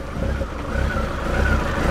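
A Honda CB1300 motorcycle engine idles close by, its steady low rumble rising and falling slightly as the revs hunt and bounce, running alone without voices for the whole stretch.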